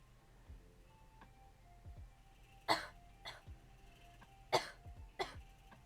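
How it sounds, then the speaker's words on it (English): A person coughs in several sharp, close bursts, two pairs of harsh coughs separated by quiet pauses, with a faint background hum. "Cough, cough."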